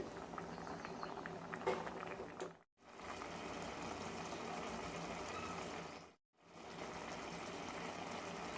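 Telangana-style tomato dal simmers in a pot, a steady close bubbling and soft patter that runs on evenly, broken by two brief silent gaps.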